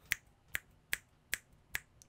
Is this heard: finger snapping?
yes